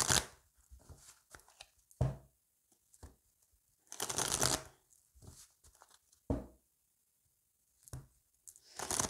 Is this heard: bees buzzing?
no